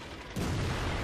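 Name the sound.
tank destroyer cannon firing in World of Tanks video game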